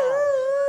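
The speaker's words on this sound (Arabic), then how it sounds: "هذا كلب." A dog gives a single sustained, tonal howl, loud and close, holding a steady pitch with rich overtones and no talking over it.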